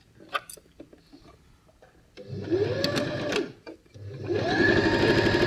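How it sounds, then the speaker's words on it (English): A sewing machine runs in two steady buzzing stretches as it stitches the seam of a small doll's tunic, preceded by a few light clicks and handling taps. "And then we'll sew from this seam down to this seam in one fell swoop."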